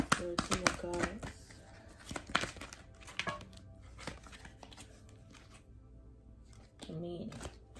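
Tarot cards are shuffled and drawn by hand in a series of crisp riffling and flicking bursts, with a final flurry near the end and quieter handling between. A person talks over the card sounds.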